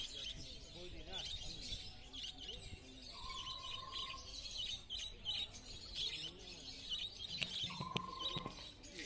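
Caged birds at a bustling bird market, including Java sparrows, chirping and tweeting in a busy high-pitched chorus. A voice talks over them alongside the market murmur.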